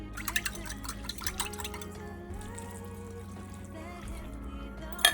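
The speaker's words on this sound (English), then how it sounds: "We're just gonna keep adding broth to this." Broth trickles and drips into a Thanksgiving dressing mixture in a bowl, a soft close liquid pour over a low background hum, with no talk.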